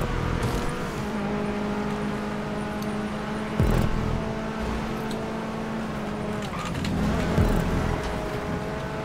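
A car engine drives in a GTA 5 Online stunt race, a continuous mid-pitched hum with two louder surges as it accelerates or passes. No one speaks.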